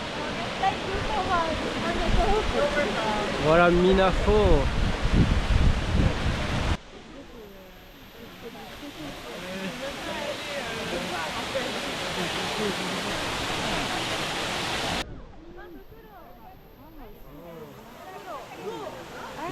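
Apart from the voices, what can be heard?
waterfall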